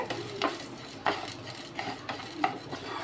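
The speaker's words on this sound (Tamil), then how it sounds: "நல்லா செவக்க வறுத்து எடுத்துக்கலாம்" Chana dal, cumin, fenugreek and peppercorns roast dry in a pan, stirred with a spoon that scrapes and clinks against the metal in regular strokes about every half second over a faint sizzle.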